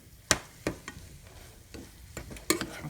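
Taco filling is stirred in a pan with an ill-suited utensil, giving a series of distinct scraping knocks at an irregular pace over a soft sizzle.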